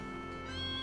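A cat meows in the video game Trails of Cold Steel 2, a single drawn-out mew that rises slightly in loudness, heard clearly over a soft steady game music bed.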